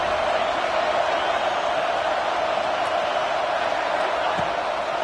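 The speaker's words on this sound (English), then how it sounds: "And how nice is it to have the home crowd going absolutely bananas?" Home stadium crowd in the College Football 26 video game, a steady loud roar of cheering spectators filling the whole stretch without pause, with faint game sounds in the background.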